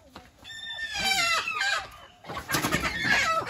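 Local laying hens at an Assam chicken farm cluck and squawk close by in the dark early morning, with rising and falling calls in several overlapping bursts and a brief pause partway through.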